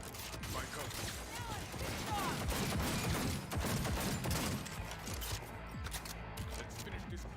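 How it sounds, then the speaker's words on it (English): Bursts of gunfire from futuristic combat in the Cyberpunk 2077 game, with rapid clattering shots and heavy weapon fire running continuously over a dense battle mix. "I'm taking fire! About to get messy."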